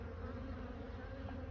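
Honey bees buzzing around the entrance of a beehive box as foragers fly in and out: a steady, dense, fairly soft drone of many wings, continuous throughout with no voices.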